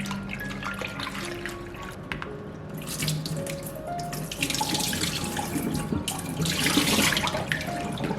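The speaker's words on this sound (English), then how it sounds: "now I'm going to wash the mushroom" Tap water runs steadily into a kitchen sink while mushrooms are washed, a close, continuous splashing stream with swirling, dripping bursts from handling in the water.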